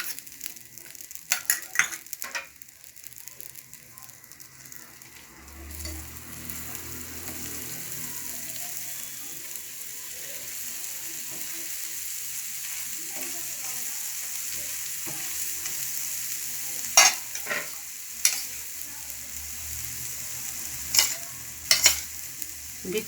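Butter sizzles steadily on a hot pan under a spring dosa topped with noodles and minced meat, a continuous frying hiss with a few sharp utensil clicks near the start and end, no talking.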